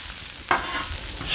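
Soba noodles and vegetables from a stir fry kit frying on a Blackstone griddle, with one brief scrape of a stir over a steady sizzle, close and fairly loud.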